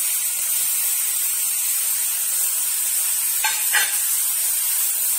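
Garlic and ginger are frying for Marathi-style misal, giving a constant bright hiss of oil. Around the middle there are a couple of short scrapes from stirring.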